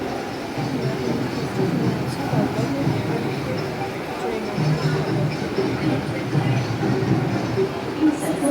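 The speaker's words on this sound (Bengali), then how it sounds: "এই জাস্ট আমরা এখন ট্রেন থেকে নামছি দমদমে" Train at Dum Dum station in a steady rumble of wagons and platform bustle, with people talking in the background while passengers get off.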